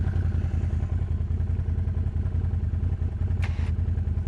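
A Honda Rubicon ATV engine runs through mud, a steady close engine drone with a low, throbbing pulse and a brief higher-pitched burst near the end, with no voices.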